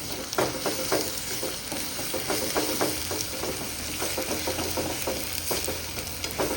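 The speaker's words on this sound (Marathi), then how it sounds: "आता हे असं टाकलं ना ते असं मस्तपैकी परतायचं" Okra with dried fish masala sautés in oil in a pan, a soft sizzle broken by repeated scraping and stirring clinks in an uneven rhythm, close and moderately quiet, with no talking.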